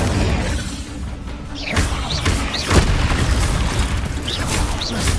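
An Incendio fire spell is cast in a Harry Potter video game, giving a loud whooshing burst of flame over a dense rumbling backdrop, with several swishing spell effects following in quick succession.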